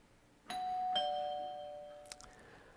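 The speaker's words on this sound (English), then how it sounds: "What you just heard is my doorbell at home." Two clear ding-dong chimes of a doorbell ringing out and decaying, fairly quiet, followed by a couple of faint clicks.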